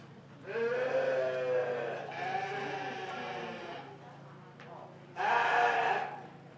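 Purebred yearling ewes at a county 4-H sheep show let out three long bleats, the first two running nearly together and a third after a short pause, loud and close over a faint steady hum.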